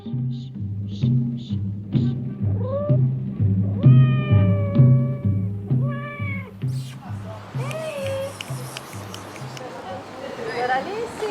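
Cats meow repeatedly in a dramatized radio scene about boys setting a trap to lure cats into a metal drum, with rising and falling cries and caterwauls heard close over a steady musical bed.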